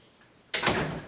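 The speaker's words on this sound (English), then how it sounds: "can you close the door?" A single interior door shuts in a room at home, a short close thud followed by a brief rustle, fairly near and alone.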